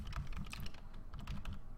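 Computer keyboard typing in a quick, steady burst of close key clicks with brief pauses, heard alone without talk.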